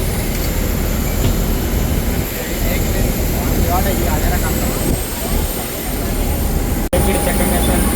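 A loud, steady airliner roar on a Mumbai to Delhi flight fills the whole stretch, a broad rumbling wash of engine noise with voices faintly under it and a brief drop near the end.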